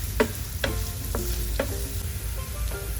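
Sliced onions sauté in a pan for egg vermicelli, a steady sizzle broken by several distinct scraping stirs and clinks of a utensil, close and unaccompanied by speech.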